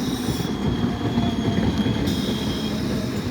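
A down Bandel–Naihati local train runs through Hooghly Ghat railway station, its steady loud rumble and wheel noise continuous throughout with no voices.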